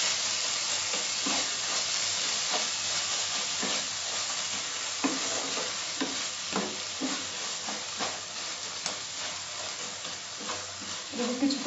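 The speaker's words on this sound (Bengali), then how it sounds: "এটাকে কিছুক্ষণ কষবো" Ginger-garlic paste sautéing over a medium flame in a pan for a spicy tomato crab curry, a steady close sizzle and hiss with repeated scraping stirs throughout.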